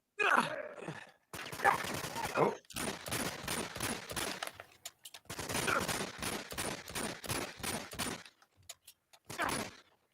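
Gunfire from the video game Uncharted: Among Thieves comes in rapid bursts of sharp shots separated by short silences, with groans mixed in.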